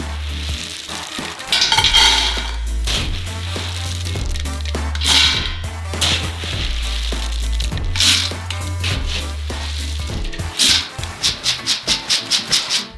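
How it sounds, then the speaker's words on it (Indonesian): Roasted peanuts pour into a large pan from a first batch of a 50 kg peanut roast, a close, loud rattling and sizzling rush that comes in repeated surges, ending in a quick series of sharp scraping strokes. "Tuang ke dalam panci."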